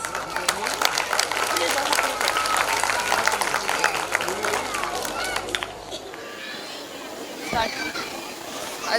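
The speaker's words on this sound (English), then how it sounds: "I request all the parents to encourage my tiny tots with a loud round of applause." Parents in the audience applaud at a school annual day, a loud burst of clapping mixed with children's chatter that drops off after several seconds, leaving scattered voices.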